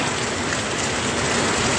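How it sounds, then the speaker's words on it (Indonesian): Heavy rain with strong wind in Gowa Regency, South Sulawesi, makes a dense, steady roar that fills the whole stretch without letup and carries no voices. "saat ini hujan sangat deras, dan tak hanya hujan, angin kencang pun"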